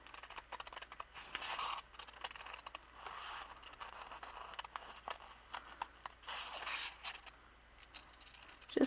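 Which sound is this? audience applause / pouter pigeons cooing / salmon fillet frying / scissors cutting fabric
scissors cutting fabric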